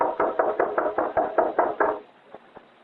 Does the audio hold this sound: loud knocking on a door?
yes